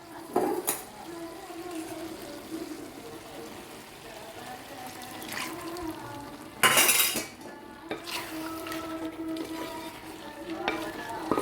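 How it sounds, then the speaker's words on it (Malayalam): Water goes into sizzling chicken stew as it is stirred in the pot, with spoon clinks and scraping throughout and a loud burst of hissing sizzle partway through, heard up close. "കുറച്ച് വെള്ളം കൂടെ ചേർത്തോളുക"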